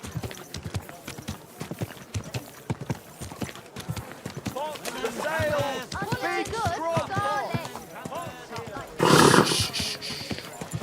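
A horse's hooves clip-clop in a steady, repeated beat while voices talk and sing over it, with a louder broadband burst near the end.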